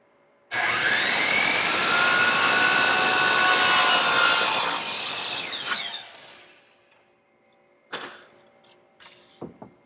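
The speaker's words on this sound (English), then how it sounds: "flip the saw back around to make my miter cut yet again" A miter saw slices through wood for a picture frame, a loud sustained whine of about five seconds that tapers off as the blade spins down, followed by a few quieter clunks and taps.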